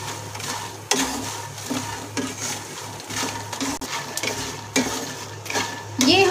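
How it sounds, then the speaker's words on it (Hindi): Makhana (fox nuts) roast in a pan, with continuous dry rattling and scraping as they are stirred, plus intermittent sharper knocks of a utensil against the pan. "ये हमारे मखाने रोस्ट हो चुके हैं"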